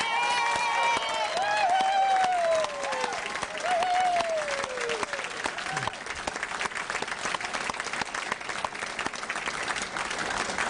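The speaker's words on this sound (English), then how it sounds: "Please give them a huge round of applause" A roomful of guests applauds youth being recognized at a Rotary youth awards evening, a dense continuous wash of clapping that carries on steadily, with faint whoops and voices in the crowd.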